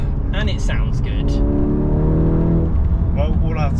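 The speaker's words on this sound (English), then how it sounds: "And that exhaust system looks like a piece of art. And it sounds good." Exhaust of a VW Golf R MK8.5 Black Edition with an aftermarket EMP system, a steady loud engine drone with rising revs, heard under ongoing conversation.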